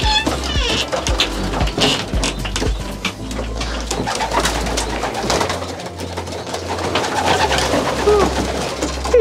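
Pigeons coo steadily and close by inside a loft for young racing pigeons, soft throaty calls repeating and overlapping, with someone speaking Polish now and then.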